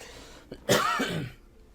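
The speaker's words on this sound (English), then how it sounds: "Sorry, I had to clear my throat a little bit there." A single close throat clearing, a rough, raspy rumble lasting about half a second, in a quiet room.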